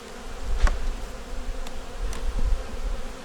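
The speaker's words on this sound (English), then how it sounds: "Pretty good bunch of bees in here from the looks of it." Honeybees buzz steadily in an open hive, a dense low drone close by with a few louder individual buzzes passing over it and no talking.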